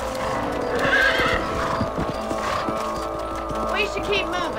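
Horse hooves and a whinny in the Red Dead Redemption video game, rhythmic clip-clop close by with a neigh, heard beneath game dialogue and ambient sound.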